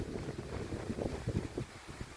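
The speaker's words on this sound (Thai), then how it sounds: "วันนี้ลมแรงมากเลยหนาวลมแห้ง" Strong, cold, dry winter wind sweeping over open rice fields, buffeting and rumbling in uneven low gusts against the microphone, with no one talking.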